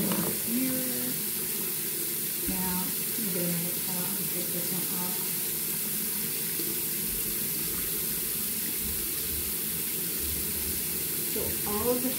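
Tap water runs steadily for the whole stretch as a continuous hiss, loud and close, while someone talks over it at intervals.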